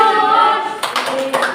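Children in a primary school classroom doing a clapping game, a few sharp, quick claps in rhythm following a stretch of voices chanting together, fairly close and loud.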